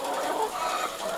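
Layer hens on a farm flock of about a thousand birds cluck and murmur together in a busy close chorus, with no talk over them.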